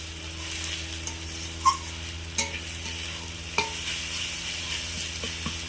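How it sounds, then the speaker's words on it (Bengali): Onion, garlic and ginger paste frying in a pan, a constant moderate sizzle broken by a few sharp clinks and scrapes of a spatula stirring against the pan. "পেঁয়াজ রসুন আদা আমি আর একটু ভালোভাবে ভেজে নেব"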